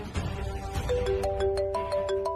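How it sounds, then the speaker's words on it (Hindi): Mobile phone ringtone for an incoming call, a bright repeating electronic melody of short stepped tones playing alone at steady moderate volume. "बूजी का फोन।"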